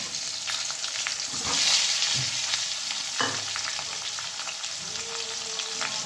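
Potatoes frying in a pan after a cumin tempering for a Bengali katla fish curry, a steady close sizzle with a few scraping stirs of a spatula throughout, no voices.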